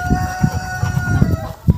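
Farmyard chickens clucking and a rooster crowing, several close, loud bursts of calls in an uneven rhythm with no talking over them.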